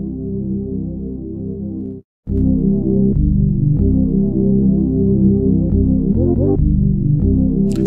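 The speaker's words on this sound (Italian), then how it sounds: "praticamente sarebbe questo one shot, che sarebbe il brass thing," A sustained, low, droning brass one-shot sample plays inside a beat, breaking off briefly and then resuming with steady, throbbing tones and a few pitch bends near the end, with no voices.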